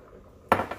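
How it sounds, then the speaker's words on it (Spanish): A spoon mixing warm water into flour for tortilla dough knocks twice against the bowl, with a sharp clink followed by a softer second tap close by. "con la ayuda de una cuchara nos vamos a ayudar a integrar muy bien el agua"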